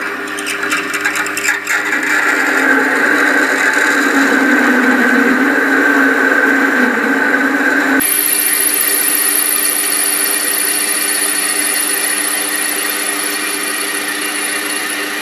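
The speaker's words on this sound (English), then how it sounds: "I'm running roughing through a 13mm drill bit now." A 13mm drill bit bores into a workpiece held in a four-jaw chuck on a TL250V lathe, a loud steady machining whine and grinding that changes character partway through and continues without talk.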